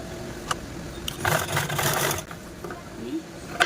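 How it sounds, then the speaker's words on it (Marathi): Short sewing machine run stitching the folded handle of a bag made from a saree border, a burst of mechanical whirring in the middle between scattered clicks and handling noises, close and moderately loud. "हा जो फोल्ड भाग आहे तो या साईडने ठेवून अशा पद्धतीने स्टिच करून घ्यायचा आहे"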